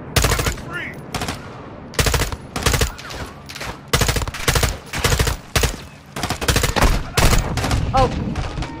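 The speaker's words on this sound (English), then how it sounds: "Where is that shotgun? I can hear it." Rapid gunfire from a shotgun and other weapons in the Call of Duty Modern Warfare II campaign, loud repeated blasts in dense bursts across the whole stretch, with quiet battlefield ambience in the short gaps.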